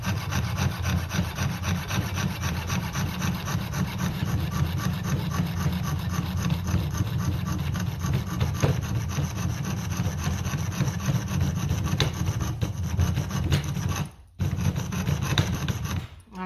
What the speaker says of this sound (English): I just finished sawing that part out